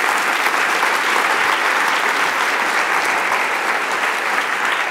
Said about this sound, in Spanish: ¿Le das un aplauso a Dios por la belleza de Jesús?